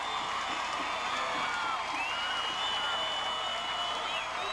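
Crowd cheering and whooping for Navy sailors marching in the 1991 Seattle Seafair Torchlight Parade, a lively spread of shouts and scattered whistles at moderate distance.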